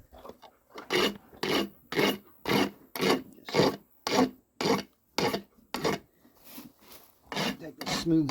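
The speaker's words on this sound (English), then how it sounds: "Take the smooth side of the rasp and just smooth it off" A farrier's rasp files a horse's hoof during shoeing, about a dozen steady back-and-forth strokes in an even rhythm, close and distinct, with short pauses between strokes.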